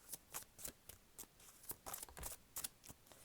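Cards being shuffled for a card reading, a quiet close riffling with a steady rhythm of soft papery bursts and no voices.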